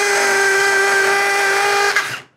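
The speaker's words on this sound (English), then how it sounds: "I'm gonna switch this over to the hammer drill mode." A hammer drill in hammer mode bores into concrete with a loud, steady high-pitched whine, then stops abruptly after about two seconds.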